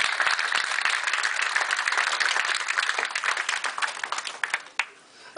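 A casino show audience applauds, dense sustained clapping from many hands that thins out and tapers near the end.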